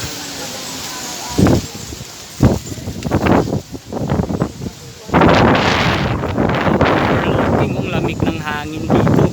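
Strong gusting wind buffets the microphone at a hilltop resort with an overlooking rest house, roaring in loud broadband bursts that swell and drop, then holding steady and heavy; no talk is heard.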